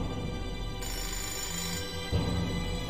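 A telephone rings steadily in Fahrenheit: Indigo Prophecy, a dense electronic ringing that stays loud and continuous over a background game hum.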